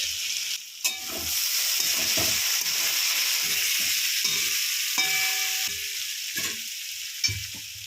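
Ground cumin and Kashmiri red chili powder fry in oil for a pea ghugni, a loud close sizzle with the spoon scraping and clattering against the pan in irregular strokes.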